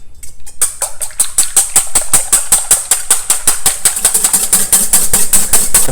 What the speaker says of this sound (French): on va monter nos blancs en neige, nos 4 blancs d'œufs, une belle pincée de sel, et on commence à fouetter